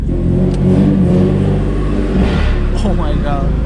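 Loud turbocharged car engine revving hard at night, a deep continuous rumble and whir with a couple of sharp exhaust cracks, close and dominant.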